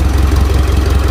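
A Mitsubishi Pajero Sport Exceed engine idles steadily and close by, a smooth low rumble with an even pulsing rhythm and no voices.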